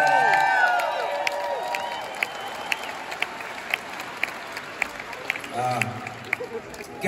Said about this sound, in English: Round of applause for Gary Nuttall here.